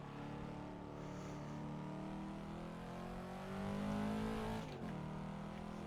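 A racing-game car engine plays through a Fanatec Clubsport SQ shifter setup, droning steadily and then briefly swelling as it over-revs after a skipped gearshift, followed by a quick drop. The engine sounds alone, without talking.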